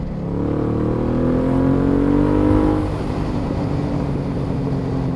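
A motorcycle engine revs loudly up close, its pitch climbing and holding for a few seconds before dropping back to a rough steady idle.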